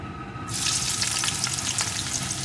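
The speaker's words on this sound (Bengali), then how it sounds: "তেলটাকে ভালো রকম গরম করে নিয়েছি এখন এর ভিতরে দিয়ে দেব কিছুটা পেঁয়াজ কুচি" Chopped onion hits hot mustard oil for a prawn bhuna, setting off a sudden loud, crackling sizzle that then continues steadily up close, with no voices.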